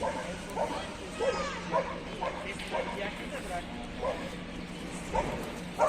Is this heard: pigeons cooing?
no